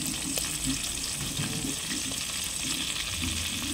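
Steady crackling sizzle of tilapia frying in hot oil, continuous and close, with faint clinks of a utensil now and then.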